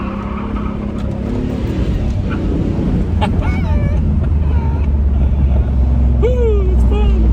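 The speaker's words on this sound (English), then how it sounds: "Let's give this thing some gas." A 1997 Camaro Z28 30th Anniversary with a six-speed manual pulls away under throttle, its engine note rising through revs beneath heavy wind buffeting, with faint whistling tones near the end.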